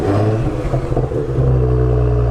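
A car with whistles attached to the exhaust revs up, its loud rumbling note climbing toward the end, heard up close and alone.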